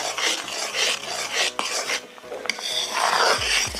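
Roselle and jaggery chutney being stirred in a pan, with a steady rasping scrape of the spoon against the metal and a few sharper knocks, continuous and close, with no voice.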